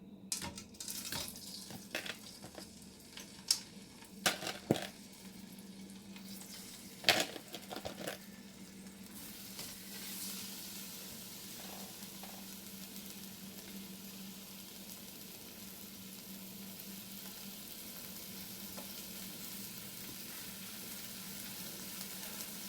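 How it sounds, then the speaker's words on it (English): Italian sausages browning in olive oil in a pot, with a few early clanks and knocks as they go in, then a steady, close, even sizzle that carries on alone. "And then I'm adding the sausages in the pot."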